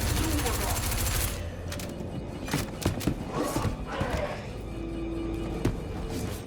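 Gunfire from an on-foot firefight in the sci-fi game Squadron 42, scattered sharp shots and short bursts at an irregular pace over a steady background hum, with someone talking throughout.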